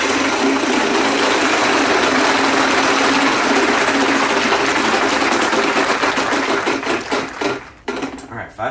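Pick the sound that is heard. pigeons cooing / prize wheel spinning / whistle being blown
prize wheel spinning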